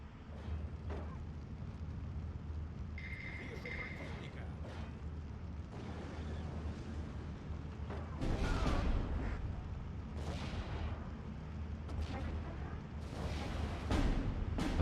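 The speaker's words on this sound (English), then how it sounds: "There's so much artillery coming in right now." Artillery barrage in the video game Steel Division 2: dull booming impacts and bursts rumble through the clip, growing heavier and more frequent toward the end, with mechanical clatter underneath.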